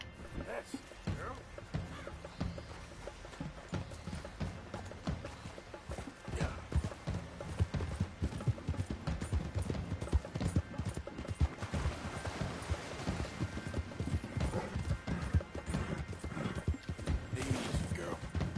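Horse hooves clip-clop steadily in Red Dead Redemption 2, with occasional whinnies, a voice talking to the horse over the continuous hoofbeats.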